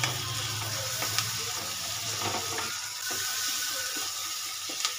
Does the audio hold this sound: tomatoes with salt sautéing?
yes